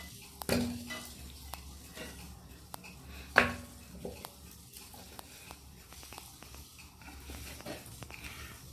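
Metal pots and utensils clink and scrape while pork hock is stewed Vietnamese giả cầy style with galangal in a home kitchen, two sharp knocks standing out over a steady low sizzle and scattered light taps, no talking.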